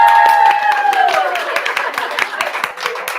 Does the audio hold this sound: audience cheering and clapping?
yes